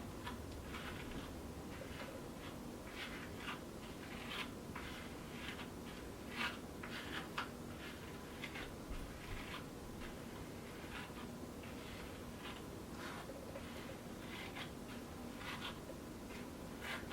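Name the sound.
detangling hair with a Denman brush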